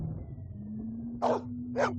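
A dog barks twice in the Blade Runner Enhanced Edition video game, two short, close, mid-pitched barks about half a second apart over a low steady hum, with no talking.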